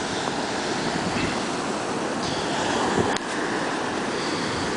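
Atlantic Ocean waves breaking on the beach at Long Beach Island, a loud continuous roaring wash of surf with gusty wind noise on the microphone and no voices.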